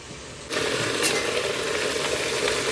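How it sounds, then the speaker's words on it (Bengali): Okra sizzles loudly in a hot pan, a steady crackling fry that jumps up suddenly as the food hits the oil. "এখানে রান্না হচ্ছে ভেন্ডি ভাজা"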